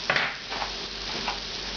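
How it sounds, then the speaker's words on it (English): Beef fries in very hot fat over high heat for a classic French beef bourguignon, giving a quiet, steady sizzle with a few soft stirring scrapes and no talking. "we're going to crank the heat on this and begin frying the beef"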